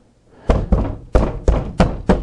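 A drywall saw is tapped into a drywall panel near a stud in a home speaker installation, producing six sharp, dull thunks in an uneven rhythm, close and loud with nothing else heard.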